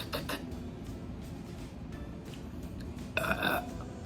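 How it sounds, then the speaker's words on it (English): A single deep, rumbling burp after drinking carbonated Jones Soda rises clearly near the end, close and moderately loud over a low background hiss. "I normally don't burp that much, but I'm burping with this."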